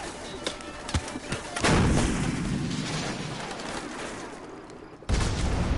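Gunfire and explosions in the Call of Duty Modern Warfare Remastered campaign, a few sharp cracks followed by a big booming blast that rumbles and fades, then another loud burst.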